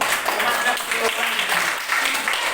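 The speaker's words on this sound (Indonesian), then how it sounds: "Tepuk tangan untuk kelompok 1" A classroom of students claps for group 1 in a lesson, a short burst of dense applause with voices mixed in.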